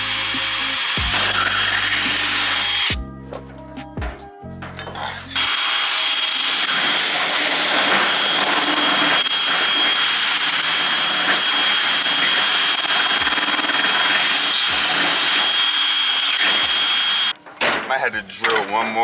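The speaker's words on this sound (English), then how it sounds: "I'm gonna drill a pilot hole, so like an entrance hole" A power drill bores a pilot hole into a trailer during a winch installation, a loud steady whine running for most of the stretch after a few short bursts and ending with clunks.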